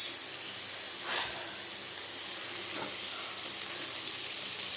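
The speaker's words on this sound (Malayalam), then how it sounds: "നല്ലപോലെ വഴറ്റുക." Food sautés in a pan with a steady, dense sizzle, continuous hiss close by, with a faint scrape of stirring now and then.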